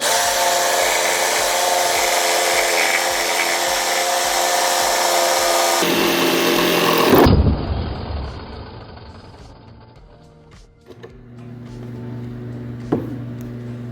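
Saw blade cutting a live edge wood slab, loud whining buzz with a rhythmic pulse that suddenly jumps, binds and cuts out as the blade pinches, leaving a fading motor hum and a few knocks.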